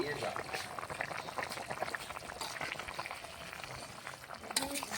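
A Bengali fish curry with cauliflower and fried fish bubbles in a pot, with a steady close gurgling boil and soft bubbling pops continuing throughout the clip.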